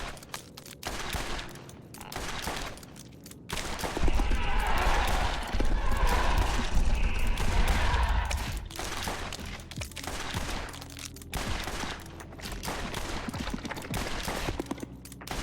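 Heavy sustained gunfire aimed at a boss's claw in Borderlands, loud rapid volleys swelling in the middle with booming impacts, while a voice talks over the shooting.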